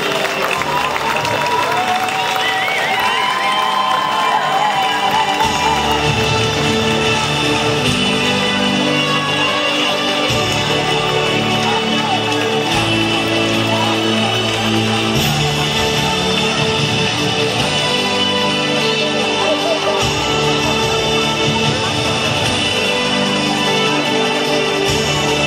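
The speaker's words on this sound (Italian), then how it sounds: "vi chiedo un ultimo applauso, quello più importante, a Mariangela che ha fatto questo lavoro" An audience at a town event applauds and cheers at length, a loud sustained wash of clapping with crowd voices mixed in.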